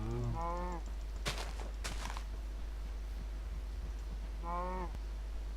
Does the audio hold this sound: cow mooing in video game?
yes